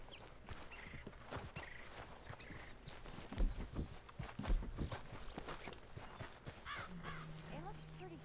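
Horse hooves clip-clopping in the video game Red Dead Redemption, a steady walking rhythm of hoof knocks with game ambience, crow caws and a low tone near the end.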